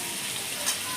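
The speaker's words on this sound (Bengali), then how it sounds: "দেখুন, আমি বিনস আর ক্যাপসিকাম মেশানোর পর আবার ভালো করে নেড়ে দিলাম।" Beans and capsicum frying in a pan with papaya, beetroot and carrot for a vegetable stew, a steady close sizzle and stirring hiss filling a brief moment.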